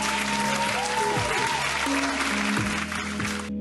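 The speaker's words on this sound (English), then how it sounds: "Matthias Kawapuri, you deserve a big round of applause" A round of applause sounds under steady tonal hums and gliding synthetic tones, with dense clapping that fades out near the end.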